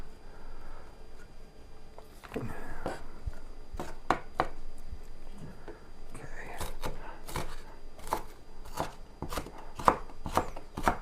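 A knife chopping onions for a wild yam casserole, quick sharp taps on a board in irregular bursts, close and fairly quiet.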